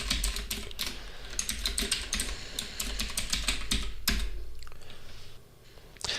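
Code is typed on a computer keyboard in quick, close key clicks in irregular bursts, with a brief pause near the end before a few more taps; no one speaks.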